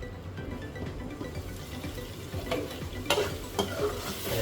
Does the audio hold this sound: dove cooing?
no